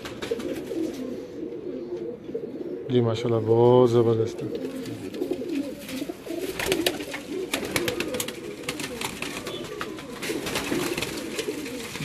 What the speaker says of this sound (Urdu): یہ کمگر کبوتر ہے